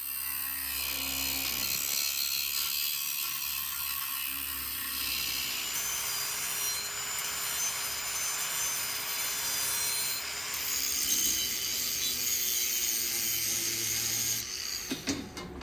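Loud, continuous sawing of a steel katana tang cut from an old saw blade, a harsh grinding rasp that keeps going steadily without pause, with no voices.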